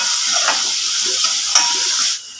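Chopped tomato and carrot fry in a pan with a steady, close sizzle, with a few brief stirring bursts before the noise drops away near the end.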